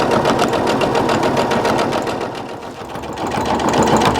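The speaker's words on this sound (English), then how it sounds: "I'm gonna do a little back stitch at the end here, just to secure everything nice" A sewing machine runs fast stitching cording into patchwork fabric, a steady rapid mechanical chatter that eases briefly midway before picking back up, close and alone without talk.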